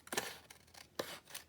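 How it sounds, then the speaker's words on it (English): Scrap scissors trim a sheet of paper down for a card envelope, giving a few quick, crisp snips close by, separated by brief quiet gaps. "Now I use scissors, my scrap kind of scissors that I don't care that gets like adhesive on them."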